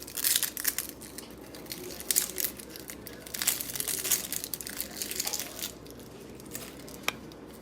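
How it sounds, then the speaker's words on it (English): Dry papery onion skin being peeled away by hand on a kitchen counter, a steady run of crisp crackling and crinkling rustles, close and fairly quiet, with a few sharper tearing snaps. "And then we'll go ahead and peel the other half."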